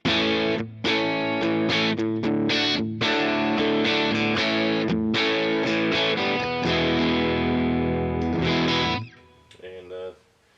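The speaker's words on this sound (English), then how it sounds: "This is a little more rhythm, like this is just kind of a little more edge of breakup sound." An electric guitar played through an HX Stomp with a dry edge-of-breakup rhythm tone strums chords loudly in bursts with brief stops, then fades into a few quiet notes at the end.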